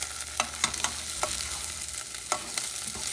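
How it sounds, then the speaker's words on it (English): A spoon stirs Cuban white beans in a pot, scraping and clacking in irregular strokes over a light sizzle close by. "And you're going to stir everything together."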